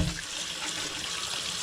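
Hot water runs steadily from a tap for cleaning an AquaOasis mist humidifier, a close, continuous rushing stream with no talk.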